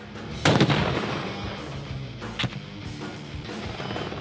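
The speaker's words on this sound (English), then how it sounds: "Blow up an enemy position with a grenade or a rocket launcher." Grenade or rocket launcher blasts hitting an enemy position during a US Army Ranger competition, heard as two sharp explosive bangs about two seconds apart over a steady rumbling outdoor background.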